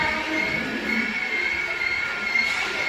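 An express train pulling into Phagwara Junction on the main line, a steady rumbling roar of rail cars with a faint high squeal running throughout, continuous and fairly close.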